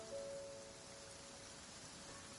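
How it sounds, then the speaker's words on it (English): Steady rain falls in the video game Genshin Impact, a soft, even hiss that holds at low level throughout with no talk over it. "The sound of rain masks the enemy's footsteps."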